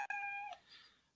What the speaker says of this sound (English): This is a meow.